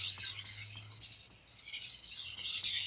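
A Japanese kitchen knife is stroked across a whetstone to remove the burr, giving a run of rhythmic, close, gritty rasping passes, each about a quarter second long, with no talk.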